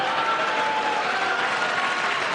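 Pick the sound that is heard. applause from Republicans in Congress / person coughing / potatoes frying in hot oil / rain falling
applause from Republicans in Congress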